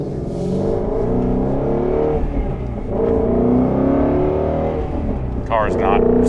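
A Ford Shelby GT350 with a factory clutch spring, its engine not yet fully warm, driven gently on the road: a close, steady, low engine drone with shifting tones and light revving, while a person talks over it.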